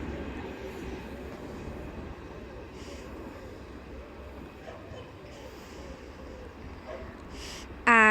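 A passenger train with a class 43185 power car in Intercity Swallow livery pulls away from Stonehouse station toward Gloucester, a faint, steady rumble of wheels and engine fading at a distance, with a brief louder burst at the end.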